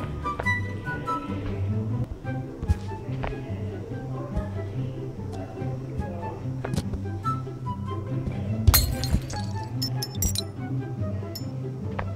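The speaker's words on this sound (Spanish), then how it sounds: "supongo que tengo que usar esas bocinas para romper el vidrio" Glass clinking and shattering inside the video game Human Fall Flat, with bright breaking accents near the nine-second mark, heard over steady game music and faint talk.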